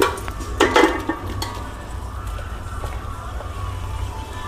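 Cooked chicken scooped from one pot into a separate pot: a few close metallic clanks and scrapes of utensil against pot at the start, then a steady low cooking rumble and hiss.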